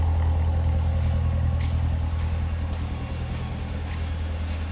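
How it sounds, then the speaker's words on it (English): A 2017 Chevrolet Corvette 2LT with a performance exhaust gives off a steady, deep, throbbing rumble that holds close and loud for the whole stretch, with no talking over it. "And the nice rumble at the back, that sounds fabulous."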